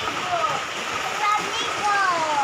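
Steady rain and splashing water outdoors while children play in a downpour, a continuous broadband wash with faint high voices and squeals drifting over it.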